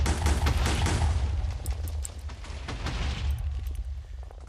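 Repeated TNT blasts in the Minecraft XPlosives mod video game boom out in a dense, continuous barrage, loud and rumbling throughout with crackling bursts layered over a heavy low roar that eases slightly toward the end.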